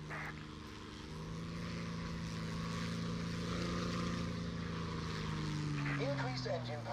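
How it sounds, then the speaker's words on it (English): Propeller aircraft engine in the War Thunder video game with power being reduced, a steady droning hum that shifts lower toward the end, with game sounds and a voice speaking over it. "If you drop engine power, your speed will decrease."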